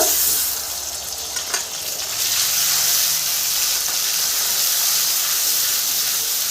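Ginger and tomato paste fry in butter for butter paneer, giving a steady, close sizzle and hiss with light stirring scrapes throughout.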